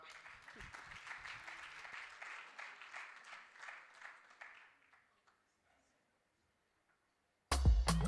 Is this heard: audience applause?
yes